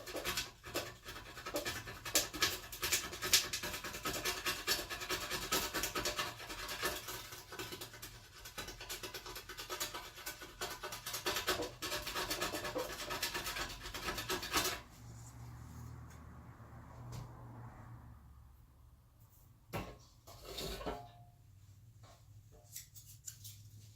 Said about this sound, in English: when you go to scrape it off, it actually sounds like you're scraping something crusty off of there